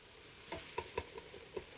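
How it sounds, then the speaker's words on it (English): A wooden spoon stirring onions in a hot pot for French onion soup, several soft scraping knocks against the pot bottom over a faint steady sizzle, close and quiet with no talking. "just keep using your wooden spoon, keeping the bottom of the pot clean"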